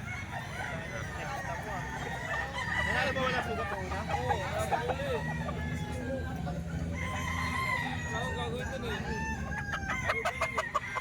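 Gamefowl roosters crow repeatedly, some near and some farther off, with hens clucking and a low hum of farm background throughout.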